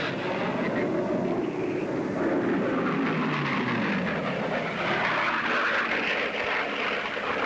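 A racing airplane's piston engine of over 3,000 horsepower roars at more than 500 mph, a loud, sustained droning roar that holds steady throughout.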